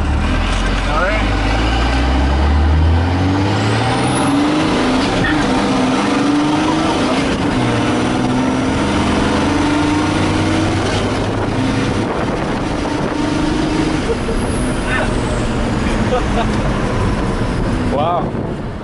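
A sleeper truck's engine pulls hard and climbs in pitch through second and third gear, with a gear change early on. The loud drone is buffeted by wind, and a voice speaks over it.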